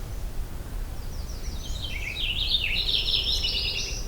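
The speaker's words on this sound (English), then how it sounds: "Now, I encountered this purple finch here in this location" A purple finch sings a rapid, high warbling phrase on an overcast morning, moderately faint over soft background noise after a quiet opening.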